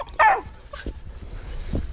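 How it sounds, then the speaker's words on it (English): A 12-week-old coon dog puppy gives a short, sharp bark near the start, followed by a few softer yips and whimpers, close and otherwise quiet. "He's trying to frustrate him, get him to bark."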